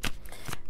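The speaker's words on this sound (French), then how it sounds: "Je vais reprendre une autre carte." Tarot cards shuffled and one drawn: a quick papery riffle and snap, close and brief.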